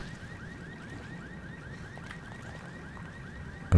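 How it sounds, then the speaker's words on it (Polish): Alarm sounding in the video game Resident Evil Revelations 2, a repeating electronic warble that cycles steadily over low ambient rumble, alone with no talk. "Alarm się włączył."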